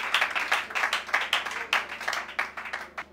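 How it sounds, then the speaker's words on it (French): A church congregation breaking into applause, many hands clapping in an irregular, overlapping patter, moderately close, steady for a few seconds and then thinning slightly toward the end. "Acclame pour le Seigneur"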